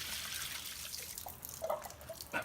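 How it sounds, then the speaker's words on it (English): Water dumped out of a water filter housing while the filter is being changed, a soft trickle with drips and a few small splashes, fairly quiet and close. "it's easiest if you take the water that's in here and just dump it out."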